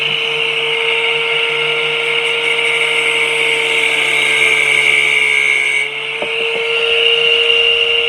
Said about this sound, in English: I'm taking my angle grinder and I'm going to